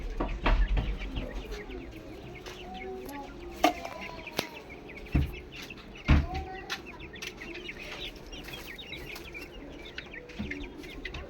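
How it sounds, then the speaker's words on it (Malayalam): Hens and a white-spotted rooster clucking close by, a busy mix of overlapping clucks and calls with sharp pecking taps and thumps scattered throughout. "ഇത് പൂവൻകോഴി"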